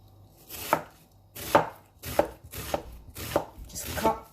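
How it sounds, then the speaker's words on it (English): A knife chops an onion on a board in five or six distinct, evenly spaced strokes, each a crisp close thud with a short scrape. "Right, I'm going to start chopping."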